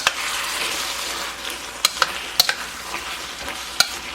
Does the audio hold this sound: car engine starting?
no